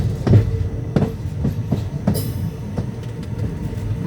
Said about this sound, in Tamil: பாருங்கள் மன்னை எக்ஸ்பிரஸ்